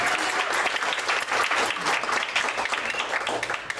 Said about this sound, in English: So I'd also like to give Katie a round of applause.